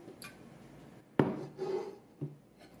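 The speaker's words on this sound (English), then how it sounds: "Take the lid off, turn the wok over" The lid comes off an Aroma electric wok and the wok is turned over. A sharp clank of metal is followed by lighter knocks and a scrape, close and fairly quiet.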